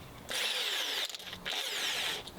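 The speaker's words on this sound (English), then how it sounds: "get the hammer drill out." A hammer drill bores into windstone at an old Scottish cottage in two loud, gritty bursts about a second each, separated by a brief pause.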